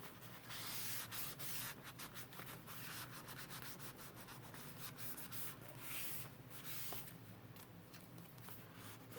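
Excess medium is wiped off a paper journal page with quick, repeated rubbing and scratchy swipes, close and very quiet, alone without talk.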